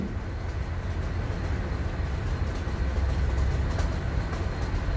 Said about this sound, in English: The train was speeding.